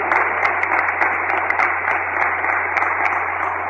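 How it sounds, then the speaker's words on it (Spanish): Applause from a church congregation at a Mass honoring patron saint San Cayetano, a dense continuous clapping that fills the space evenly and loudly from start to finish. "Fuerte el aplauso de nuestros hogares aquí, hermanos y hermanas, para nuestro patrón y amigo."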